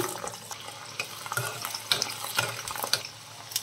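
Garlic hits hot oil in a pan with prawns, giving a bright, crackling sizzle with scattered pops and spatters at close range.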